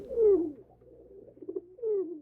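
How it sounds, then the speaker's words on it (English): Pigeons coo on a window ledge: soft, throaty, descending coos in two clear phrases with a lower murmur between them, close by and alone. "she started cooing like a pigeon until a dozen or so flocked to her window ledge, jamming their scruffy feathers together to join in the symphony of coos"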